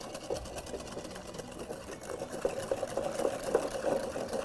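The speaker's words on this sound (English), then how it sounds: "So you're gonna give this a whisk." A whisk beats sugar and egg together in a bowl with a quick, steady clatter of rapid rhythmic strokes, close and moderately loud, with no voices.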